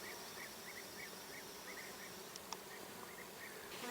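Bees buzz steadily around a flowering, prickly plant out on the steppe, a faint, continuous insect hum with no voices, broken by a couple of brief clicks near the end.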